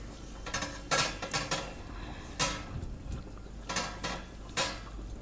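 Rohu fish pieces shifted around in gravy inside a kadhai, giving a series of close metallic scrapes and clinks of a utensil against the pan, several short bursts spaced irregularly over quiet.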